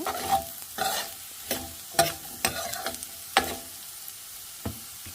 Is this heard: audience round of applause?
no